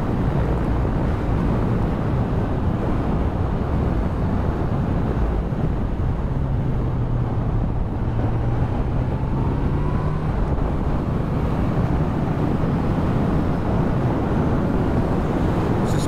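A 2023 Kawasaki Z900 motorcycle engine drones continuously under heavy wind rush while riding on Philippine roads, a steady dense roar close to the rider with no voices.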